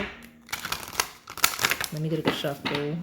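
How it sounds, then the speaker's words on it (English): Tarot cards are shuffled in quick papery riffling bursts up close, followed by a voice talking over the last softer shuffles. "So let me get a good shuffle."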